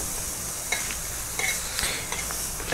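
Food frying lightly in a pan sizzles steadily and close, with a few soft stirring scrapes and clicks breaking through the constant hiss.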